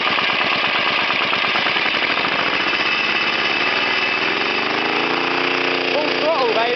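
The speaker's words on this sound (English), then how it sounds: "I'll give it a little bit of a rev for you." A small go-kart engine runs loud and close, chugging in rapid pulses that climb in pitch as the throttle opens and then hold at a strained, high-revving drone.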